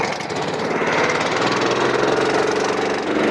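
A go-kart engine on a racing track revs hard and loud, a buzzing, rattling drone that stays up close and steady for a few seconds with no talk.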